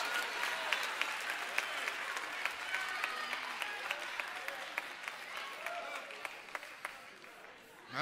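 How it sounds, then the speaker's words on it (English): A church congregation claps their hands together during a worship service, the applause steady and fairly far off across the room, with a few sharper claps standing out and faint voices mixed in. "Clap your hands and make a joyful noise"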